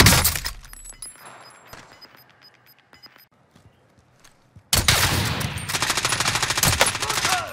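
Gunfire in an Arma-style military shooter video game, with scattered shots and clatter at first, a quiet stretch, then a sudden loud sustained burst of rapid automatic fire and impacts striking the player.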